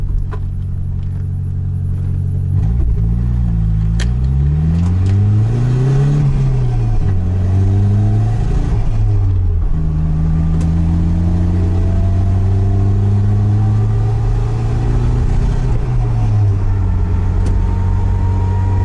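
A Nissan 200SX engine pulls under throttle load, its loud, close drone rising and falling through several surges, with uneven, rough patches suggesting a misfire; no talking.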